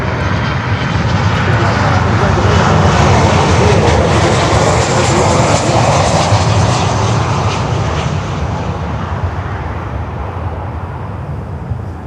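A China Airlines Cargo plane's jet engines roar loudly and steadily at an airport, a broad sustained rumble that eases slightly toward the end.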